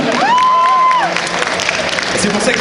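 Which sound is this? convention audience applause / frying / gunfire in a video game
convention audience applause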